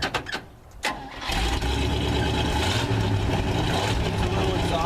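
A 1955 GMC 370-Series truck engine cranks in a few short bursts, then catches and settles into a loud, steady low rumble that carries on to the end.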